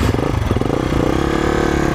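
A Royal Enfield Himalayan motorcycle engine runs steadily on an off-road test ride, a loud, close mechanical drone with a gritty, throbbing texture and no talking over it.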